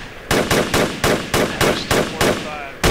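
Rifle fire in the video game Project Reality, a steady string of about nine loud, close shots spaced roughly a third of a second apart, each cracking sharply and then decaying, with no voices over it.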